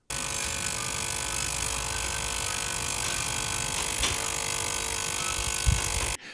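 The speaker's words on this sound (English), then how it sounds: "That was my ultrasonic cleaner." Ultrasonic cleaner running, a continuous buzzing hum with a fine high-pitched hiss, steady and close for about six seconds before it stops abruptly.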